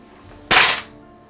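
A magic missile spell sound effect in a tabletop role-playing game: a single sharp, loud, crackling blast that fades quickly, with no speech.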